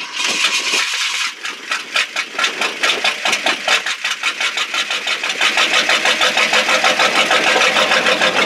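A 1968 Ford F-250 truck engine cranks with rapid rhythmic chugging for about a second and a half, then catches and runs, its uneven idle settling into a steadier, louder rumble close by.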